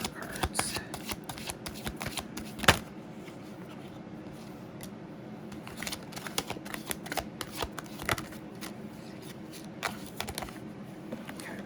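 Tarot cards shuffled by hand in a steady riffling run, with sharper snaps as individual cards are pulled and laid down, close and fairly quiet with no talking.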